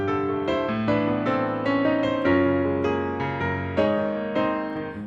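Piano running quickly through a passage of a piece from Final Fantasy XIV, dense sustained chords and fast notes blending into a steady, full wash of sound, played alone and close.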